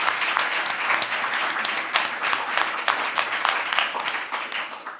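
A conference audience at an event on Black theology breaks into sustained applause, dense overlapping clapping that holds steady throughout without voices.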